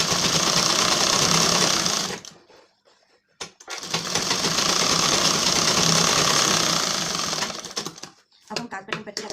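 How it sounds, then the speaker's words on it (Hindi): Close, loud electric sewing machine double-stitching a blouse, whirring in long continuous runs with two brief stops and a few short bursts at the end, with a voice heard over it. "अब इसको भी हम डबल सिलाई दे देते हैं।"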